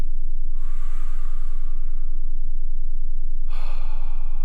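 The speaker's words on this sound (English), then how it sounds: "Just take a nice big deep breath." A deliberate deep inhalation in a calm relaxation setting: a slow, steady breath drawn in close to the microphone, with a second breath starting near the end and no talking.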